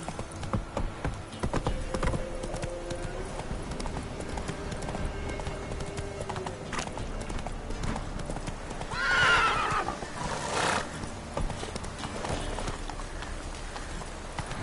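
Clip-clop hooves of a horse galloping in The Witcher 3 video game, a steady hoofbeat rhythm throughout with a loud whinny near the middle, over faint background game ambience.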